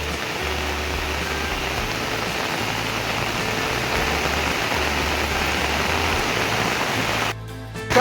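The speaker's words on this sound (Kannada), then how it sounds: "ಸಿಕ್ಕಾಪಟ್ಟೆ ಮಳೆ ಬೀಳ್ತಾ ಇದೆ" Heavy monsoon rain pours over a hill-country plantation near a river, a dense, loud, continuous hiss with a low rumble underneath, thinning abruptly near the end.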